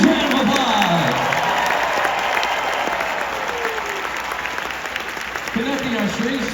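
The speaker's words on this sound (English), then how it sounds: "So give your own strings a huge round of applause." Concert crowd at a show applauds the string section, a loud wash of clapping and cheering in a large arena, with an amplified voice speaking over it.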